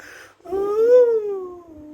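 A single drawn-out wailing cry from a woman market vendor, rising then slowly falling, loud and close, with a brief sob just before it.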